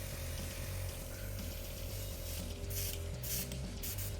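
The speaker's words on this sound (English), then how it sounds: "start spraying this mixture of green and yellow now down onto these bubbles" A thin mixture of green and yellow paint is sprayed from an airbrush onto miniature bases. A faint steady hiss carries a low hum underneath, with a few stronger spray bursts near the end.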